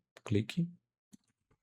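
A computer mouse clicked twice in quick succession while resizing an object in CorelDRAW, the clicks short and close, with speech dominating the start and only small isolated ticks afterward.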